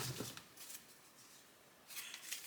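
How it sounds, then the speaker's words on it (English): Quiet riffling bursts of playing cards being shuffled up close, two short flurries separated by a soft pause. "first thing I'm going to do is shuffle the cards"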